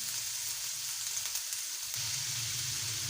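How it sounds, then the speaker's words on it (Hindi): Garlic-ginger paste fries with onions in a pot for chickpea pulao, giving a steady close sizzling hiss throughout that deepens and thickens slightly partway through. "लहसुन अदरक के पेस्ट जब प्याज में डालना है ना, ज़बरदस्त। इसे हम तकरीबन 1 मिनट फ्राई करेंगे।"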